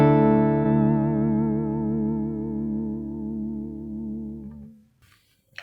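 Guitar chord run through a Boss VB-2W or TC Electronic Tailspin vibrato pedal with the rise time knob all the way down, so the pitch wobble starts right away; a sustained, wavering chord rings for several seconds, then fades out.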